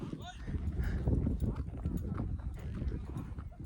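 Hooves clop from a horse walking during a ride in Kodaikanal, a close, uneven rhythm of thuds mixed with people talking.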